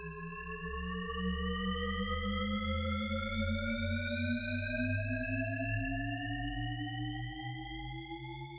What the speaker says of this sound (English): What you're hearing is pitch in seemingly infinite ascension